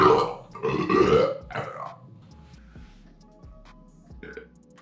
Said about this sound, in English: Because the goal is to get all of us guys at a round table burping contest.